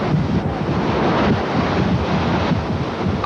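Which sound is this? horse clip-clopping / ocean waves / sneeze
ocean waves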